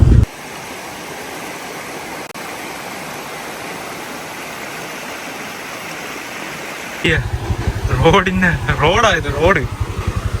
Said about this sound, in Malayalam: ഓരോ സൈഡിലെ അരുവികൾ